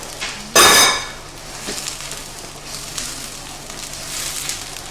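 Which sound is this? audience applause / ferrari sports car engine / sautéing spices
sautéing spices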